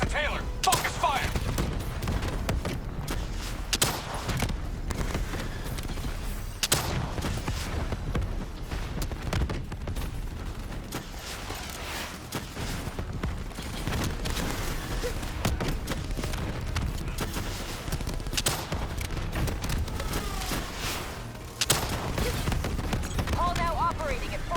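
Gunfire in a Black Ops 3 campaign battle against a Manticore mech, dense bursts and repeated shots over continuous combat noise, with characters shouting over the fighting throughout.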